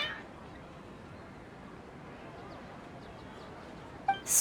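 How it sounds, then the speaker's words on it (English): Cats in the video game Genshin Impact give a few faint, brief meows over a quiet, hissy background, followed by a short louder sound at the end. "Your cats seem pretty worked up."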